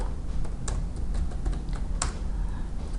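Rapid typing on a computer keyboard, close and continuous key clicks with a few louder taps over a steady background hiss.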